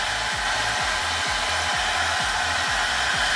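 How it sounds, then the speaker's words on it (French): A hair dryer blows on a hair piece, a loud, continuous close-up rush of air with a steady motor hum and a rhythmic pulsing undertone. "Une fois que j'ai fini de sécher, que les cheveux gardent vraiment la forme,"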